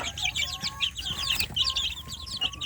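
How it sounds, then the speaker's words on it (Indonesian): Native village chicks peep and cluck in a rapid, overlapping chorus of high chirps, with steady background noise and no talking. "anak ayam kampung kita"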